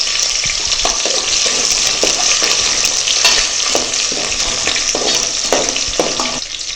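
Shallots frying and being stirred in a pan for Tamil duck curry, a steady close sizzle broken by repeated scraping stirs of the spoon.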